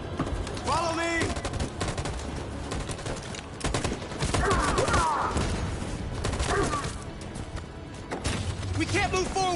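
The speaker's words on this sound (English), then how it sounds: "That machine gun is taking down everything that moves!" Machine gun fire in Detroit: Become Human, sustained bursts of gunfire filling the scene amid battle noise, with shouted voices and groans breaking through over the shooting.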